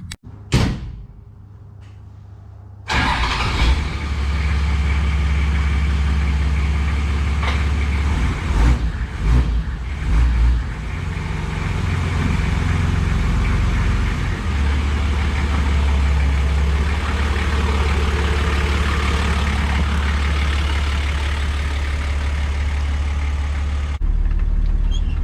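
Mahindra and Toyota Land Cruiser 4x4 utes: a door thunks shut, then an engine rumbles loudly and steadily with a low drone while driving, with a few knocks partway through, and no talking.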